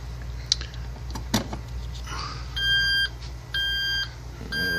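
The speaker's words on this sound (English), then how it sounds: "alright, we got beeping," Three evenly spaced electronic beeps ring out from a replacement treadmill controller board on an LS7.9T treadmill, each about half a second long, over a steady low hum and a few clicks.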